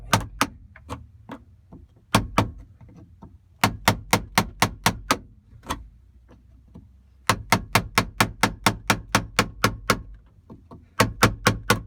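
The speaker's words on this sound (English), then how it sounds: "basically just get yourself a nice beefy screwdriver, stick it on one of these little humps, and just hit it" Nice beefy screwdriver hammered against the humps of a fuel pump lock ring on an E36, sharp metallic strikes in rapid bursts of several blows separated by short pauses, close and loud.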